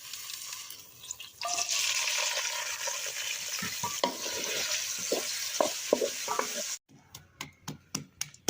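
Onion masala sizzling and being stirred in leftover okra-frying oil in a home kitchen, a steady hissing fry with scraping spoon strokes, ending in a few sharp clinks.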